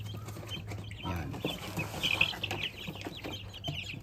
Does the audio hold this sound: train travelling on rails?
no